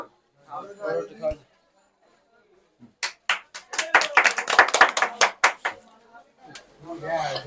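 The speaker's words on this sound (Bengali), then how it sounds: "সবাই তালি তালি একটা জোরে তালি সবাই" A small group clapping at an uncle's birthday celebration, a burst of quick close handclaps lasting a few seconds, with voices talking before and after.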